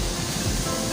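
Rushing water at the Chikhale waterfall in heavy rain roars as a broad, steady noise, close and unbroken, with no voices.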